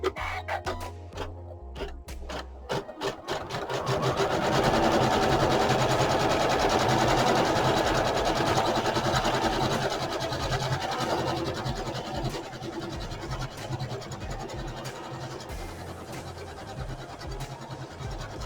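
Sewing machine stippling a quilted embroidered tile, starting with a few slow stitches then settling into a fast, continuous whirring run, close and steady.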